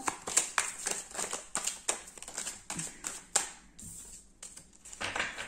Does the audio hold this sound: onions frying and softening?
no